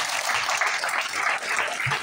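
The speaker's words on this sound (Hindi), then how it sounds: "जोर से ताली बजा देना" Dense applause from a crowd at a management meeting in Thane, steady and loud across the whole short stretch with no pauses.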